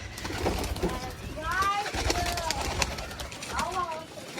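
Pigeons coo in a nearby loft, several soft rolling calls overlapping, while a person talks throughout over a low background rumble.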